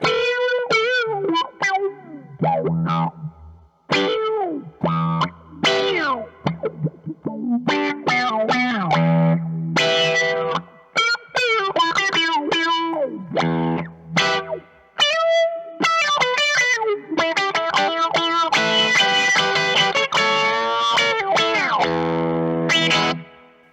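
Heavily distorted electric guitar through a Mojo Hand FX Little Wonder effects pedal and a dirty amp channel, playing riffs and bent notes, loud and gritty with a chorus-like shimmer, no voices.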